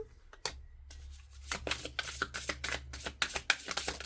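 Tarot cards are shuffled close by in a quick run of crisp riffling slaps, with a few soft handling sounds and one card flip before the shuffle, and no speech.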